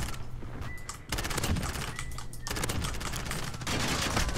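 Rapid automatic gunfire fills a Call of Duty match on the Shipment map, with near, dense bursts and rattling volleys that go on almost without pause.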